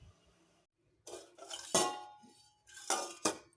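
A cooking pot of homemade junnu, a set colostrum-milk cheese, is handled on the stove, giving a few close metallic clinks and scrapes in separate bursts, separated by brief silences.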